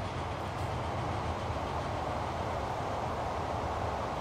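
Trains rolling through a freight yard in a railway map-building video game, heard as a steady, low rumbling wash of rail noise that runs unbroken throughout with no talking.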